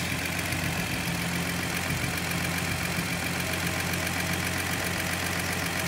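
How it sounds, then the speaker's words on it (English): 1972 Datsun Cedric engine idling after its spark plugs were cleaned, a steady, even running note with a faint knocking rhythm underneath, close and continuous with no voices. "Okay, engine working a bit better."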